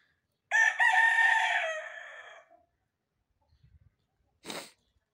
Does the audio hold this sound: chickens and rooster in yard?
yes